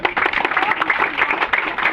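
An audience claps at a gathering, dense irregular applause running throughout while a voice speaks over it.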